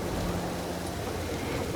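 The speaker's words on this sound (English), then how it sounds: "oh my god, the rain is loud today." Loud, steady rain in the survival video game Empyrion, a dense continuous hiss with low rumble filling the whole stretch, no voices over it.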